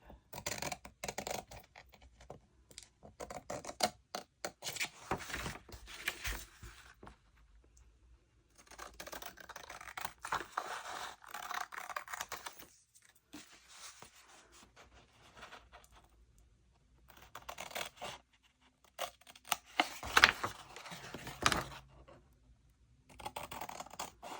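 Scissors cutting pieces off a paper coin envelope up close, a series of short crisp snips and paper rustles in irregular bursts with quiet pauses between.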